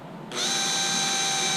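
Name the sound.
drilling oversized holes in RC hydroplane hull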